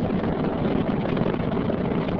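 Space Shuttle Discovery's three liquid-fuel main engines roar during launch, a dense, steady, broadband rumble with no breaks, heard alone and loud throughout.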